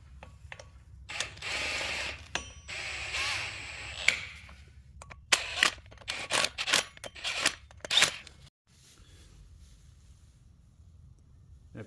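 A torque wrench tightens ARP flywheel bolts on an LS engine with an ISR Performance adapter plate in a cross pattern. Bursts of ratcheting and sharp metallic clicks come close and loud at irregular intervals, then fall quiet near the end.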